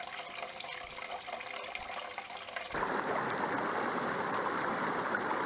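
River water rushes steadily over rocks in an urban stream, a dense, continuous roar that grows louder and fuller about halfway through, with no voices present.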